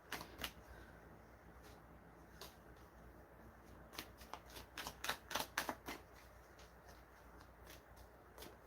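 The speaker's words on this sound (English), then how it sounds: "I feel like a heavy shuffle on this one for some reason." Tarot cards are shuffled in quick crisp bursts, a riffling flurry building in the middle, fairly close and quiet with no voices.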